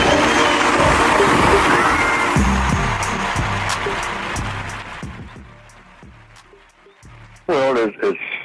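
An audience at a lecture on constructive and non-constructive behavior claps and cheers loudly, the crowd noise fading out over several seconds before speech takes over near the end.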